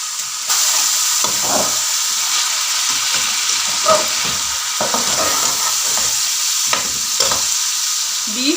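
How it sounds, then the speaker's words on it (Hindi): Beef cooking with yogurt on a high flame for beef yakhni pulao, a loud, constant sizzle and hiss broken by repeated scraping stirs of a spoon in the pot. "अब इस दही के साथ इस बीफ को हमने 5 मिनट तक पकाना है हाई फ्लेम पे"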